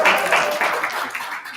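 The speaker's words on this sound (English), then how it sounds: "Everyone give Kristen a little round of applause." An audience at a rock livestream claps in a short, fairly quiet burst of irregular hand claps that thins out toward the end.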